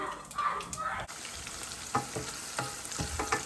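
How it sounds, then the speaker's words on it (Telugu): Onions frying in hot oil with mustard seeds, chana dal and cumin, giving a close, crackling sizzle broken by scraping stirs, with no talk. "ఆనియన్స్ కొంచెం బ్రౌన్గా వేసి ఫ్రై చేసుకుందాం"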